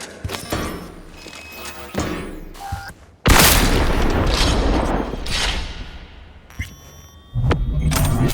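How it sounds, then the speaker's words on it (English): Gunfire and heavy impacts in Cyberpunk 2077, with a long loud burst of shots and booms in the middle, sharp thuds and mechanical clanks around it, close and dense. "Heard shots."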